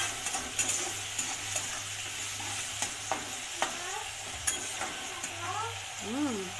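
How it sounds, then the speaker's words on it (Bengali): Onion and prawns sizzle steadily in a hot pan as a utensil stirs them, with regular clinks and scrapes against the pan over the continuous close frying hiss. "এই যে হয়ে গেছে পেঁয়াজ আর চিংড়ি মাছ ভাজা"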